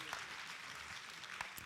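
Faint, distant applause from the audience at an awards ceremony during an association congress, a soft, continuous wash of clapping with a few sharper claps standing out.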